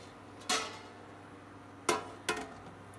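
A metal lid clanks onto a pot of water on a home stove, striking three sharp times, once alone and then twice close together, against a quiet kitchen background.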